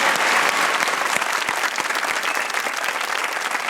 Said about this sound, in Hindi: बाबर के लिए तालियां होनी चाहिए।